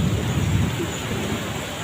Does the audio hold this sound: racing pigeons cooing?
no